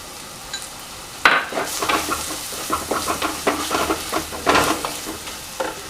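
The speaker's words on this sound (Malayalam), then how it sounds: "നമ്മൾ മിക്സ് ചെയ്ത് വെച്ചേക്കുന്ന നമ്മുടെ മസാല കൂട്ട്, ഇതെല്ലാം കൂടെ ഒന്ന് മിക്സ് ചെയ്തെടുക്കാം" Beef being stirred with a chilli powder and garam masala spice mix in a clay pot for Kerala-style beef varattiyathu, giving close, irregular scraping and soft sizzling strokes with no talk.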